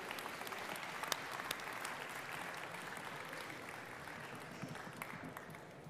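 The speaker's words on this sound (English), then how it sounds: "a huge round of applause to everyone that's made this happen" Applause for participants at the Africa Tech Awards, a steady, fairly faint wash of many hands clapping across an audience, with occasional sharper claps standing out and murmured voices underneath.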